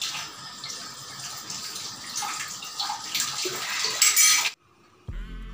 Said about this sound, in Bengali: এই যে এই কয়টা বাসন এখন মাজবো